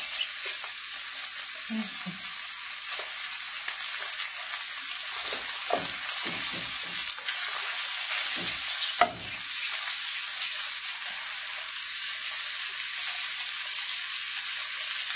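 Steady, close sizzling of food frying in a pan over a low gas flame throughout, with a few soft scraping and stirring knocks in the middle.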